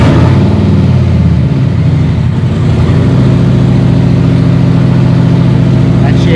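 A Harley-Davidson CVO Street Glide V-twin starts up inside a garage and settles into a loud, steady, throbbing idle that fills the enclosed space for the rest of the clip.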